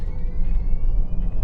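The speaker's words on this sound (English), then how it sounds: "It sounds like it's the electric motors doing work." A 2025 Rivian R1S electric SUV accelerates on the road, its electric motors under throttle making a steady low whir with a faint rising high-pitched whine over road rumble, heard from inside the cabin.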